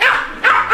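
A pet dog at home gives two or three quick, loud barks close by, short sharp yips in a rapid burst with a slight gap between them.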